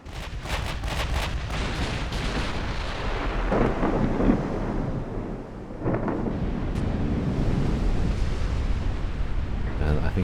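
Warship guns firing and shells landing in a naval battle video game, a continuous rumbling roar broken by heavy booms, with a voice talking over the din.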